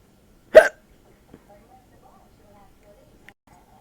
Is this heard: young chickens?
no